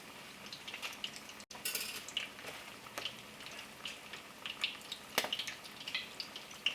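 Salmon cakes cook in hot grease, giving a soft, continuous sizzle flecked with scattered pops and spits, quiet and close up with no voices.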